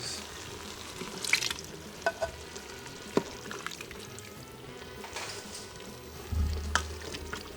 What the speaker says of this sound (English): Now we're going to put in some diced tomatoes with its juices.